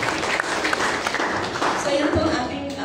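Church congregation applauding during a sermon, a sustained dense clapping of many hands with voices talking through it.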